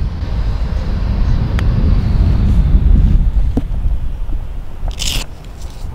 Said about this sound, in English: Wind's a little aggressive right now.